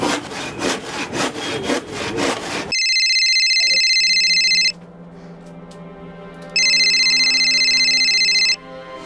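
A telephone in a Crime Patrol TV drama episode rings in two long electronic bursts separated by a quiet gap, following a stretch of rhythmic scraping sounds.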